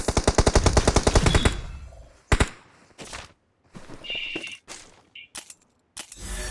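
Rapid automatic gunfire from a T90 gun in the mobile battle game BGMI: a loud, dense burst for about a second and a half, followed by scattered sharper game effects and short gaps.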